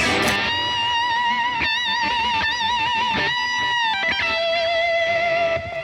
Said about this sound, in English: this is the delay, and it sounds like this